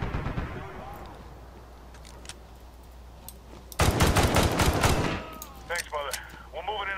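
Gunfire in the Medal of Honor (2010) video game: a few scattered shots early on, then a dense, loud burst of rapid automatic fire for about a second, followed by sporadic shots with voices talking around them.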